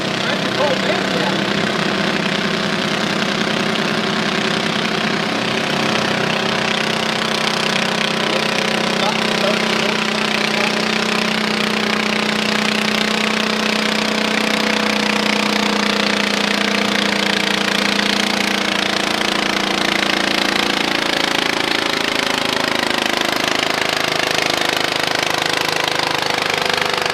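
A garden tractor engine roars steadily at a tractor pull as the Madcap tractor runs on track 1, a continuous loud drone with a rising pitch partway through, while an announcer talks over it.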